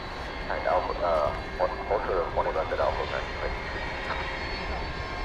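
An Airbus A220 airliner comes in to land at DFW at night, a distant steady engine roar with a soft whine, while someone talks over it.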